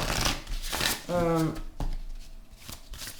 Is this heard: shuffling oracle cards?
yes